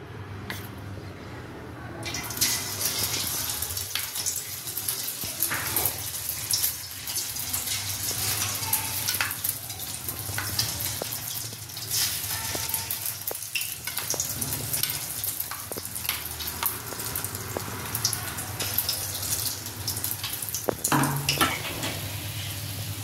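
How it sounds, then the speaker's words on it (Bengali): Fish balls coated in a cornflour batter drop into hot oil and fry with a dense, continuous bubbling sizzle, dotted with small crackles and occasional clicks, heard close with no talking. "ব্যাটারের মধ্যে আমি 3 চামচ কর্নফ্লাওয়ার মিশিয়ে নিয়ে বলগুলো ডুবিয়ে ডুবিয়ে তেলে ছাড়বো।"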